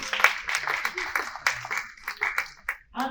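An audience at a business support forum claps to welcome a speaker: a short burst of applause with spoken voices mixed in.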